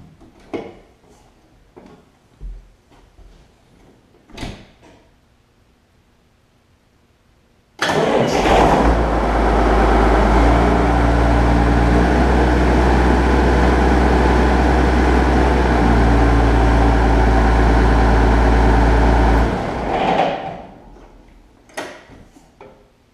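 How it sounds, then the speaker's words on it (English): A Magnum tractor in a warm shop cranks and fires after a few clicks, then settles into a loud, steady diesel idle for about twelve seconds before shutting down to quiet clicks. "that's a Magnum tractor for you."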